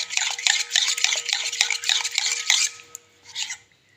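A spoon beats rested gram flour batter for cauliflower pakoras in a bowl, a quick rhythmic series of close wet scraping strokes for over two seconds, then a pause and a short final stir, no talking.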